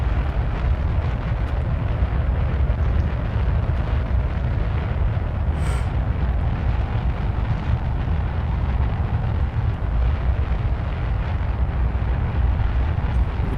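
Rocket explosions in Kerbal Space Program, a steady, loud, roaring rumble with no pauses, heavy in the low end, continuing throughout with one brief bright crackle midway.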